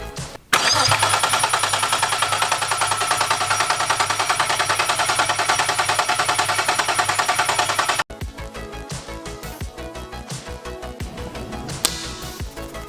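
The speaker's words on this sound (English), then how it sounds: "So we've gone through, we've cranked her over, she's got oil pressure" A Nissan VQ30DET engine fitted in an S15 Varietta drift car cranks over loudly with a fast, rhythmic starter chug for about seven seconds. Then it cuts off, and scattered clanks and workshop clatter follow.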